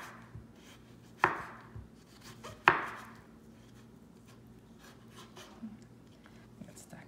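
A kitchen knife slices zucchini thinly on a cutting board for a frittata, with two crisp, close chops standing out and lighter cutting taps between them, and the cook speaking quietly underneath.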